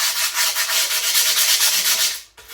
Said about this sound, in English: you're gonna take a piece of extra sandpaper and go around it